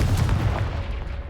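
Confringo fire spell blast in Hogwarts Legacy, a single loud booming burst at the start that rolls off and decays over about a second.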